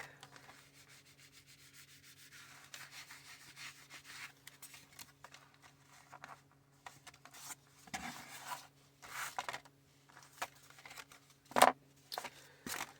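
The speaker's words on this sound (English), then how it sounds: "I wanted to go ahead and squeegee these real quick" A squeegee rubs across collage index cards in short, scraping strokes. The strokes start faint, then grow louder and more frequent, with a sharp scrape near the end. The sound is close and there is no talking.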